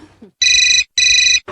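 A phone ringtone sounds two loud, even electronic trills with a short gap between, up close, with brief bits of voice around them.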